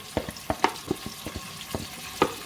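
Yellow onions and shallots sizzling and spattering in a hot pan, with irregular crackles and pops over a soft frying hiss, close up.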